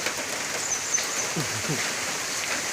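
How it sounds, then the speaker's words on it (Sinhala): Soft, steady patter of rain with a faint hiss throughout, and a few low murmurs of a voice in the background. "ඒ වැස්සකට අහු වුණා"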